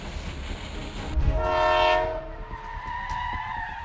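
A Norfolk Southern freight train locomotive with a mechanical failure that led to a locomotive fire, its horn sounding loud and steady for a few seconds over rumbling rail noise, then fading while the train keeps rolling.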